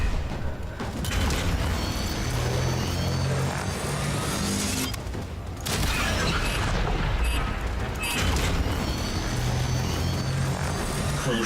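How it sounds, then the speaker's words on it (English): A cruise ship reactor detonates in the game Warframe, a heavy rumbling boom that swells and rolls over continuous engine-like roar, with a brief dip before a second surge of blast noise. "Cruise ship reactor has detonated."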